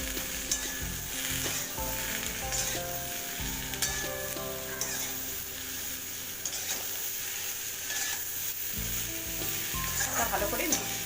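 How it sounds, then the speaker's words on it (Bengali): Vegetables sizzle loudly in a hot pan as turmeric and salt are stirred in for a Bengali shukto, with a continuous frying hiss broken by scraping stirring strokes. "এবার হলুদ আর নুনটা ভালো করে এর মধ্যে মিশিয়ে দেবো।"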